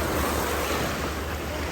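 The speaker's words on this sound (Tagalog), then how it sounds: "medyo lumalakas na naman yung alon" Ocean waves wash steadily onto a beach in front of a beachfront restaurant in La Union, Philippines, a continuous loud rushing surf with wind noise on the microphone and no voices.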